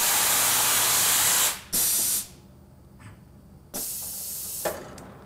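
A Tormach automatic tool changer grabs a tool on a CNC mill, with loud bursts of hissing air that cut off, a quieter gap, then another sustained hiss.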